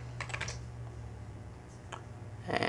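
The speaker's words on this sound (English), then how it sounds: "I'm going to type in Sharpen" A few quick bursts of keystrokes on a computer keyboard, quiet and close, with a short pause between them and a final flurry of typing at the end.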